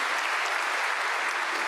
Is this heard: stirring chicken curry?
no